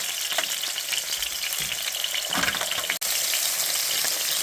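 A hamburger patty fries in ghee with a little olive oil, giving a steady close sizzle with soft crackles and a brief clatter near the end, with no talking.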